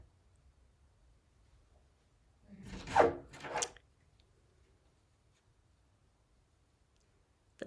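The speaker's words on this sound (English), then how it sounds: "The dog is scratching at the door." A dog scratching at a door: a short cluster of scraping, rubbing strokes in a quiet room, two brief bursts close together, then near silence.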